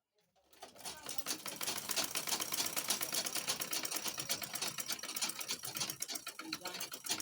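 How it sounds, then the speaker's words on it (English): An electric sewing machine runs a double stitch along an abaya seam, starting up after a brief quiet moment and then whirring steadily with rapid needle clatter, close and fairly faint, with no talk. "We are going to double stitch because stitching."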